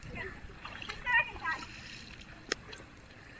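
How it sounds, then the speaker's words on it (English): Feet kick and splash in grassy rainwater in a few quick bursts, close by, with young voices chattering in the background. "I love kicking water"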